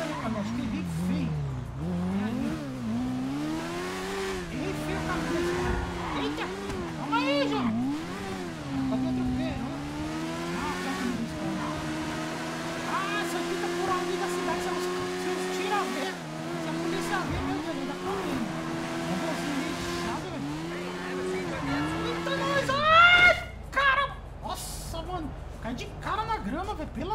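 A Honda Mini Hornet motorcycle in GTA V revs and accelerates hard, its engine whining up and down through gears in long loud sweeps, ending in a crash-like burst, with a game voice over it.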